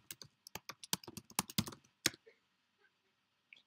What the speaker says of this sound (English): We are asked to enter the password, and I remind you that we will not receive any feedback, so no stars or dot while we type.